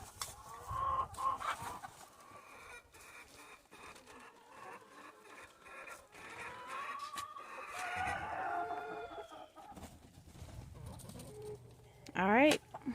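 Chickens cluck softly close by over a background of talk and shuffling, with a sharper squawk near the end.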